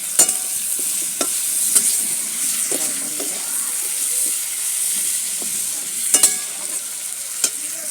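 Fish curry cooks in a pot, with a continuous close sizzle and bubbling hiss broken by a few sharp clinks of stirring against the pot.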